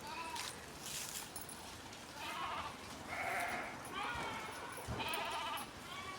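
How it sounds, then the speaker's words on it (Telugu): Goats bleating now and then as they are driven along a village path, several calls spread across the stretch over a steady outdoor background. "అయిగోండి మేకలు అలా తోలుకెళ్ళిపోతున్నారు"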